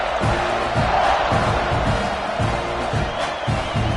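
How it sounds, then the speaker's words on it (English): A college football stadium crowd just before kickoff, a loud sustained roar of cheering and shouting with rhythmic swells of chanting, filling the space continuously. "They're set to kick it off, and this crowd now ready to get behind them."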